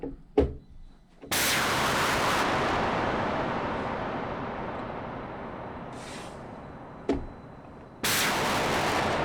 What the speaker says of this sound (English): you're trying to get that big impact, lots of high frequency content, the pitch drop, and this kind of low end rumble at the end